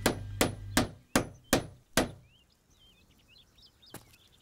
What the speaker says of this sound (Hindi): यह हथौड़ा कौन खातिर